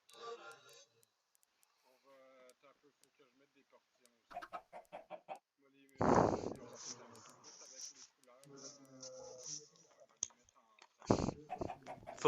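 Minecraft chickens cluck in a series of short, scattered bursts, with a louder flurry midway, heard beneath a person talking through most of the stretch.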